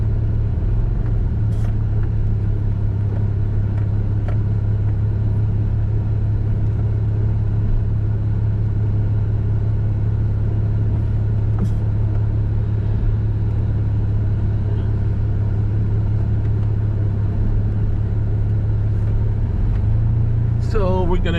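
A car drives through a neighborhood, its steady low engine and road rumble droning continuously from inside the cabin, with a few faint clicks and a brief rattle near the end.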